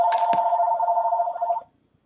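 A telephone rings once in a single bright electronic trill lasting about a second and a half, then cuts off abruptly into silence, the kind of ring heard just before an answering machine picks up.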